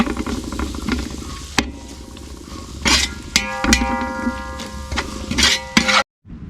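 Chili and coriander powder sizzle in a hot pan as a spoon stirs and scrapes, a close steady frying hiss broken by several sharp clinks, no talk, ending abruptly in silence.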